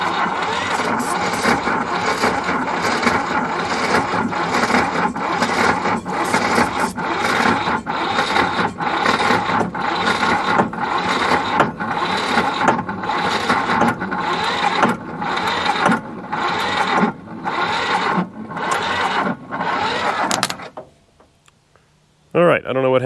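Diesel engine of a 4x4 man-lift cranking on its starter with a steady, rapid chugging rhythm for about twenty seconds, loud and close, then cutting off abruptly into near silence before a brief restart of noise.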